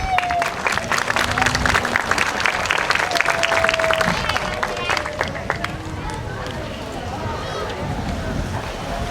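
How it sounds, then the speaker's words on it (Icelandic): A large outdoor crowd claps steadily and loudly at the opening ceremony of the 2024 Goslok festival. The dense applause runs the whole time, with a few whistles and cheers mixed in. "Gefið henni gott klapp."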